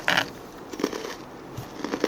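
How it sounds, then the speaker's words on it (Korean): Crunchy potato chips are chewed close to the mic, a few loud crisp crackling bites followed by fainter crunches, with no talking. "제가 이거 씹는 소리 한번 들려줄게요"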